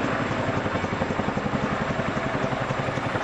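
Chinook tandem-rotor military helicopter in flight, a steady loud rhythmic rotor thump under a broad engine roar, continuous throughout.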